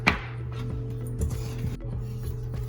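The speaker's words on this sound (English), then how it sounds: "she's going to go ahead and whisk all of that together" A whisk clicking against a bowl while baked oatmeal batter is mixed, giving light, irregular tapping strokes over a steady low hum, close by and fairly quiet.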